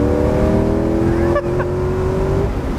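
Spyker C8 exotic sports car accelerating along a straightaway, heard from inside the cabin as a loud, steady engine note climbing in pitch, with a brief dip midway as it shifts.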